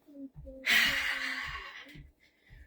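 A deep exhalation during a cardio cool-down of walking in place, a long airy breath out lasting over a second, framed by soft footsteps or low thuds, close and fairly quiet.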